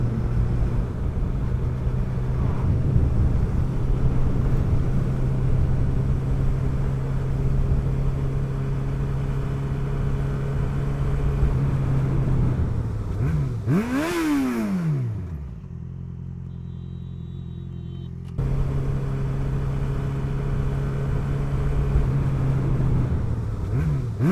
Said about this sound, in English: there is another bike coming.